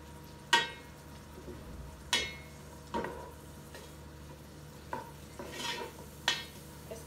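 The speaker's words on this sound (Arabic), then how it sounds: "استمر أحمس فيه شوية ينطي ريحة وأبدي أنزل عليه اللحم" A spoon stirs food frying in a pot for meat kabsa, making five or six sharp scraping clinks spaced a second or so apart over a soft, constant sizzle, close and fairly quiet.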